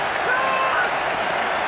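Football stadium crowd roaring with cheers and applause at an A-League match between Wellington Phoenix and Western Sydney Wanderers, a steady broad wash of noise with a commentator's voice over it.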